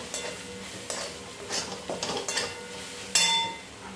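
A spatula scrapes and clinks against a pan while spiced vegetables with turmeric and red chilli powder are mixed, making a handful of short, close strokes over a low background hiss.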